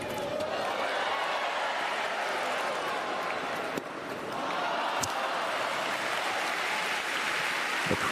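Spectators at a wheelchair tennis stadium keep up a broad, sustained crowd roar with applause and cheering, loud and continuous throughout, with a couple of sharp ball strikes poking through the noise.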